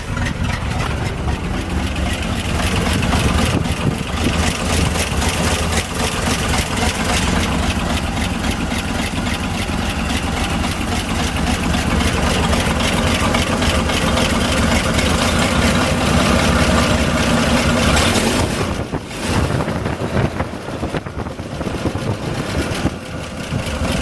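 A 1961 GMC 5000 truck engine idles steadily and close up in midwinter, a continuous low rumbling drone that holds even for about twenty seconds before briefly dipping near the end.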